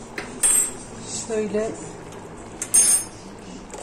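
A metal spoon clinks against a pot or dish in a few sharp, bright taps and a brief rattle, close by, as cumin is added; someone speaks a word between the clinks.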